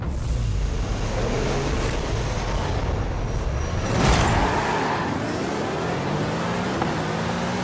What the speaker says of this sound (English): the car has immediately went onto the driving line to start the race